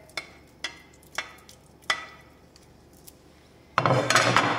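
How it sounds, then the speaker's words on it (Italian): Filleted red mullet and a garlic clove dropped into hot oil in a pan: a few sharp taps and clinks, then a sudden loud, dense sizzle of frying that carries on to the end, close up with no voices. "Prepariamo un fondo di cottura con dell'olio, uno spicchio d'aglio e delle triglie precedentemente sfilettate."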